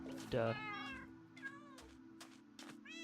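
Cats in Minecraft Bedrock Edition give several short meows, one loud and close followed by fainter ones spaced across the moment, with a steady low game hum underneath and a voice speaking over them.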